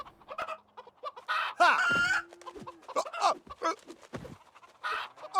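Chickens in The Sims 3 cluck and squawk close by in busy bursts, with a loud agitated squawk near the middle, no talk.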